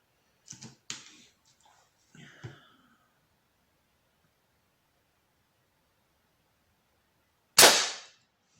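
Artemis CP2 air pistol: a few faint clicks and handling noises early on, then after a long quiet gap one sharp, loud shot with a brief hissing tail.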